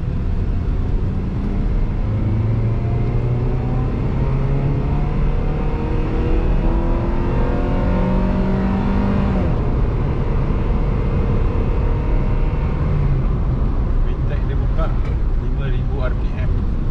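A Honda Prelude SiR VTEC engine drones and revs continuously, its pitch rising and falling through gear changes, loud and close, with voices talking over it.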